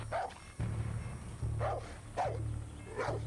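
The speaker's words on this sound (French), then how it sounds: "Un chien ? Ah oui." A dog in the video game Far Cry 6 barks four times at a steady pace, each bark short and fairly close, over a constant low game soundtrack hum.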